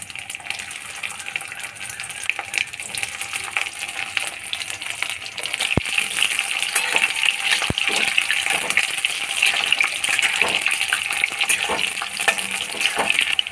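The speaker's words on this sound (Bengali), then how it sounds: "তেলটা গরম হয়ে গেছে, এবারে ফুলকপিগুলো দিয়ে দিলাম।" Cauliflower pieces fry in hot oil in a wok, a steady, fairly loud crackling sizzle that swells after a few seconds and holds, with a couple of sharp clicks partway through.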